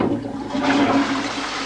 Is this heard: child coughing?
no